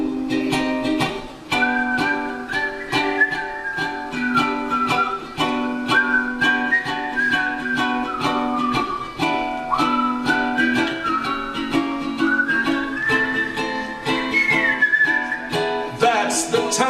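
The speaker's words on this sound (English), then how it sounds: "Here's the whistling part." Melodic whistling carries the tune of a recorded song over steady instrumental backing, gliding up and down in long phrases through most of the passage with no voices.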